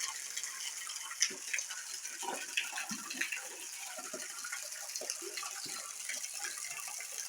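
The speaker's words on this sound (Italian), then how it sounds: "Siamo nel retro della cascata." A waterfall at Su Stampu de su Turnu near Seulo, Sardinia, heard from the space behind the falling water: a steady broadband rush and splash, continuous and fairly close, with small irregular spatters over it.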